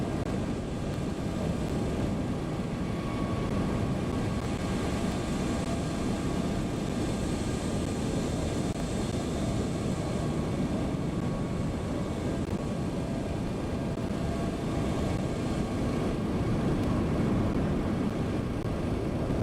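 A TDFi MD-11 airliner in MSFS 2024 rolls for takeoff with flaps 10, its engines giving a steady, loud, broadband roar with a faint whine above it, unbroken and with no voices.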